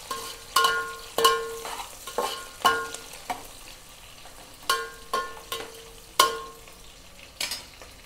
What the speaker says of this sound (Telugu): ఇప్పుడైతే ఉల్లిగడ్డలు అయితే వేగిపోయినాయి